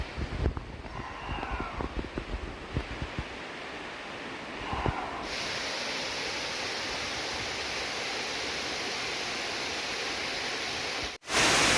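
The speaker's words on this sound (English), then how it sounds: "Check out this waterfall" Steady broadband rushing water, loud and continuous, after a few seconds of quieter outdoor noise with faint handling sounds.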